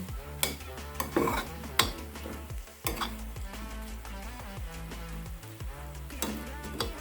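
Seasoned eggs are being turned over in a frying pan: metal utensil scrapes and clinks against the pan over a soft, steady sizzle, with several sharp knocks, close up and with no one talking.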